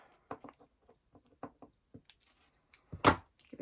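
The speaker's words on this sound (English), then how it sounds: "Snip the end off." Scissors snip a thread end on a small felt craft, giving a few soft, close clicks and snips spaced irregularly in a quiet room, with one slightly louder snip near the end.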